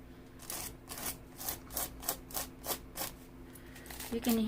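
Rough, sand-gritted paper rubbed by hand on a page of an altered-book junk journal, giving a rhythmic series of close scratchy strokes about every quarter to half second, with no talk over it.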